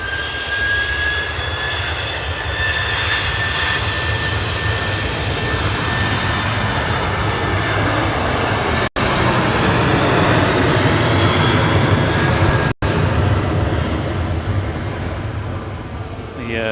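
A jet airliner's engines roar at Manchester Airport, a broad loud rush with a rising whine that slowly fades away into the distance.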